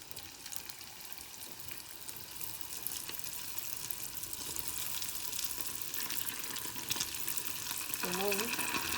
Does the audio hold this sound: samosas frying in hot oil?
yes